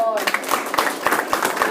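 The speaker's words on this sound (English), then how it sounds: "Round of applause." Applause at a Cyber Challenge 2015 awards ceremony reception: a crowd claps with distinct, fairly regular hand strikes for under two seconds.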